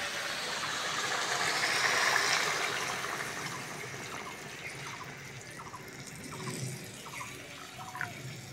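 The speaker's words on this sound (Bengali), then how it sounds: "এইবার জল দিয়ে দেবো।" Water pours and trickles steadily into a pan of thin chicken curry with vegetables, a soft continuous splash and gurgle with a few small drips, moderately close and with no talk.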